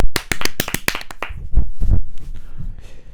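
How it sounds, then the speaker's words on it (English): A few people on a football podcast clap in a quick, sharp burst of about a dozen close claps lasting about a second, followed by low thumps and rustling. "I think he deserves a round of applause."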